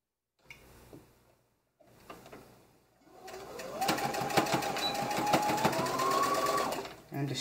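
A sewing machine attaches a skirt to a waistband with a quarter-inch seam, a close, steady stitching run lasting about three seconds after some brief handling sounds.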